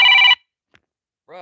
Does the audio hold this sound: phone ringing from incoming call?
yes